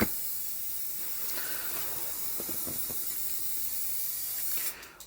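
A spray gun hisses in a steady, continuous stream while a third coat of paint goes onto Volvo 740 panels, loud and close, holding unbroken for several seconds before cutting off near the end.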